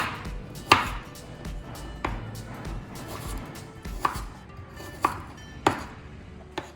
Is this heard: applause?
no